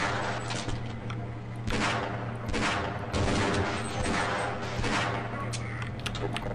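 Gunfire in the video game Half-Life, repeated sharp shots and bursts in irregular clusters over a steady low game hum, with someone talking intermittently over the shooting.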